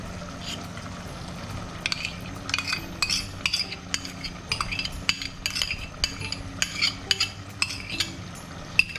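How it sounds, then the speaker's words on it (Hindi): Spoon scraping and stirring in a pot as yogurt goes into mutton saffron pulao, with repeated metallic clinks and soft wet stirring close up, no talking. "अब मैं इसमें दही डाल दूंगा।"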